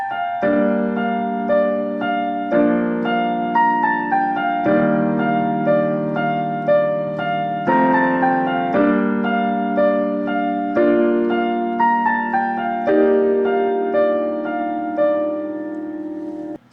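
Solo piano plays the opening melody of a song, a steady sequence of sustained chords and right-hand notes moving in even phrases, close and full, with no talking.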